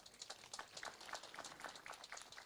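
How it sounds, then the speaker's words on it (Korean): A crowd applauds at the close of a 2022 disaster-response and emergency-rescue safety drill in Yecheon, South Korea. The clapping is faint and distant, a dense, even patter with no voices over it. "박수 부탁드리겠습니다."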